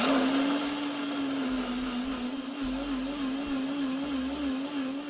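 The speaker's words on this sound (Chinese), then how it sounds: "软后的辣椒干，沥干水分后倒入搅拌器。" A blender pureeing soaked dried chilies with scallion, ginger, garlic, dried shrimp with their soaking water, and onion into a paste, a loud continuous whirring motor hum that holds steady throughout, close by with no talk.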